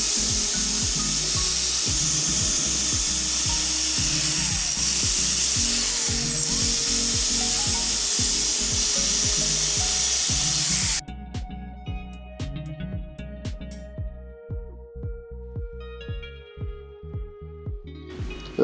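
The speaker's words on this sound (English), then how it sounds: "take the grinder and grind the end of the hook out so it's not sharp and it won't fray your line" A power grinder grinds the end of a metal fishing hook remover, a loud continuous whining roar for about eleven seconds that cuts off abruptly, followed by quieter intermittent taps and scrapes.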